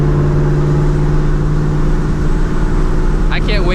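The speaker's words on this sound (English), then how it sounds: "This car is wicked loud though." A loud supercharged Ford Mustang GT with a 2V engine, its deep, steady exhaust drone filling the clip close by, with a brief voice near the end.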